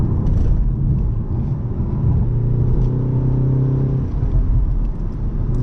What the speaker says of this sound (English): You can hear it popping and banging, especially during the upshifts.